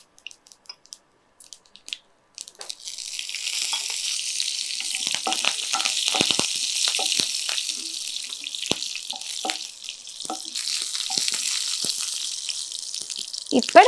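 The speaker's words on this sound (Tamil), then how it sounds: "இப்போ உளுத்தம்பருப்பு கடலைப்பருப்பு ரெண்டுமே பார்த்தீங்கன்னா நல்லா நமக்கு பொரிஞ்சு வந்துட்டு இருக்கு" Urad dal and chana dal fry in hot oil with a steady, bright sizzle that starts after a couple of seconds of quiet taps, with scattered stirring clicks and crackles running through it.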